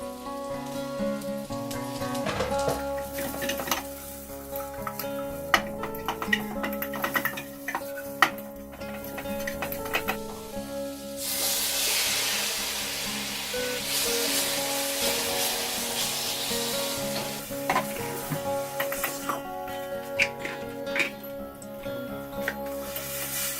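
Mushrooms fry in a pan for a rice bowl, giving a steady crackling sizzle that swells loudly midway and then settles, heard over soft background music.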